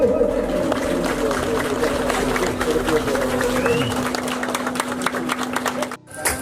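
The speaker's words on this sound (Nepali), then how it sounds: "ताली बजाइ दिनु होला है।" Audience applause at a community gathering in Sonada before a Chyabrung dance, a dense steady patter of clapping from a crowd that fades near the end, with a voice speaking over it and a sustained hum beneath.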